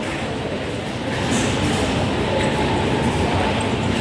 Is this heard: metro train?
yes